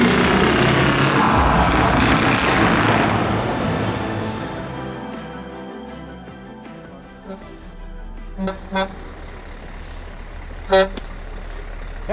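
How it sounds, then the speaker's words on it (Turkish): A Scania Vabis 164L V8 truck's engine rumbles, then several loud, sharp horn blasts sound in short bursts, the last one the strongest. "Korna işte bu ya."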